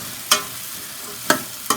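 Carrot, beans and green chili are stirred in a pan with a spatula, giving three sharp scraping strokes over a soft background sizzle.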